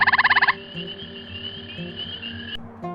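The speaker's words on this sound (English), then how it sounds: "Gray treefrog." A gray treefrog lets out a short, loud, rapid burst of bird-like pulsed trilling lasting about half a second, followed by quieter background calling.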